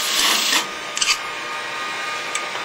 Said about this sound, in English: bring our lathe speed back up, cut that lid off